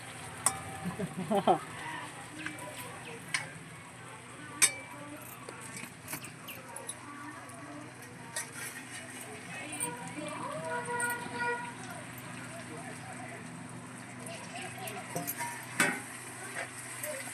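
Stuffed brinjal and tomato masala sautéing in oil on a wood-fired stove, a faint steady sizzle with scattered stirring scrapes and clicks, voices talking throughout.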